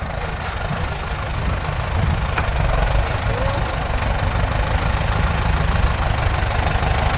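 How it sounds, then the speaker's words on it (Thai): A heavy tractor engine idles steadily close by, a continuous low rumbling chug with faint background noise throughout, at a cassava field harvest. "จะมีรถไถที่ ติดงวงแบบนี้ครับ"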